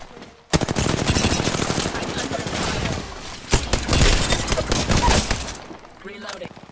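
Rapid automatic gunfire in the video game Apex Legends, loud close bursts of fast shots running for several seconds with brief pauses, with game voice lines heard alongside.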